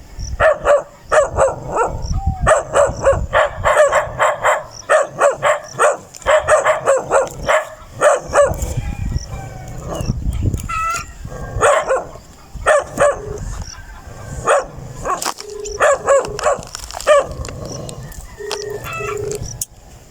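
A dog barks repeatedly in quick bursts, loud and close, with a rooster crowing at times in the background.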